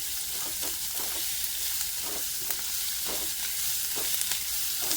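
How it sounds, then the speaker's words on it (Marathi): Onion frying lightly in a pan for a prawn dish gives a steady close sizzle, broken by repeated stirring scrapes at a regular pace, with no voices. "कांदा भाज थोडासा हलकासा भाजून घ्यायचं"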